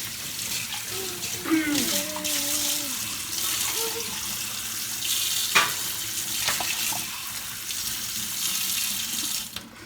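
Water splashes and runs continuously as a mother bathes her child, close and fairly loud, with pouring and sloshing throughout and brief voices and squeals underneath.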